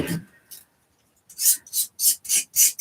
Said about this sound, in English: cut some of the foam away to make the sanding a bit easier for me